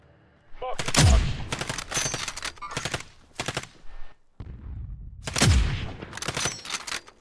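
Bursts of automatic gunfire ring out in a video game, several sharp volleys with short pauses between them, loud and close, with faint voices in the background.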